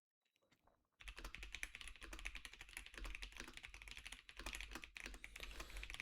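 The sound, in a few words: quick typing on a computer keyboard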